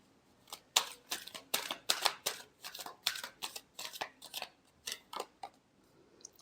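Tarot cards being shuffled by hand nearby, producing a quick series of crisp riffling snaps and flicks in irregular bursts, fairly quiet, with no talking.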